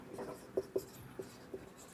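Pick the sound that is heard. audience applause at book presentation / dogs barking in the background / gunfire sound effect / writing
writing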